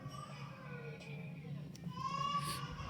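Children's voices chatter faintly in the background of a quiet room, distant and low, with one higher cry-like voice near the end.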